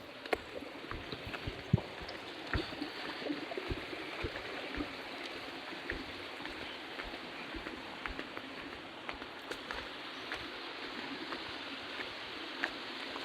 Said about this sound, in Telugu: చూడండి, ఒక మన మినీ వాటర్ ఫాల్ దగ్గరికి అయితే వచ్చాము